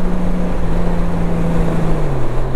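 A Honda Goldwing 50th anniversary touring motorcycle, a heavy 367 kg machine, drones loudly as it accelerates, its engine note rising steadily and then dropping as the transmission shifts into sixth gear.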